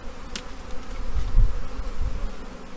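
A dense, steady buzz of many honey bees close by at a long hive, a low hum with faint rustling and no voices.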